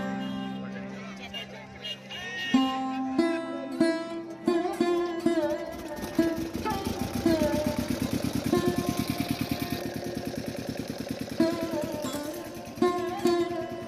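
A boat engine runs with a steady, chugging mechanical drone while the boat crosses the Ganges river, close and fairly loud, with rhythmic knocking pulses throughout.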